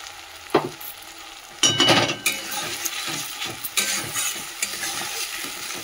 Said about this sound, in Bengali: আদা রসুনটা একটু তেলের মধ্যে নাড়িয়ে নিই